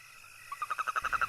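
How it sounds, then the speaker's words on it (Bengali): Frogs croak on a full-moon night along a village road, a rhythmic run of about ten evenly spaced calls starting midway and growing steadily louder and nearer. "হঠাৎ হঠাৎ ব্যাঙ ডাকছে।"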